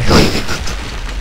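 An explosion in the video game Call of Duty: Modern Warfare 3, a loud, short booming burst that quickly fades into a low rumble, with no voices.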